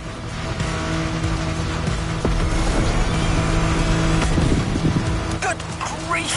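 A car in The Crew Motorfest skidding and almost rolling onto its roof, a steady loud engine drone with tire squeal and scraping bursts toward the end, close and continuous.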